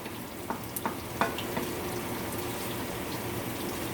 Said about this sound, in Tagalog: Babrown muna yung sibuyas tsaka yung bawang.